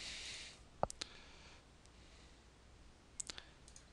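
A computer mouse clicks a few times, crisp and close: a single click near the start, another just after, then a quick cluster of clicks toward the end, over quiet room hiss with no talking.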